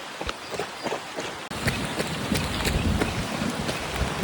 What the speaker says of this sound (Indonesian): Ini hujan deras banget.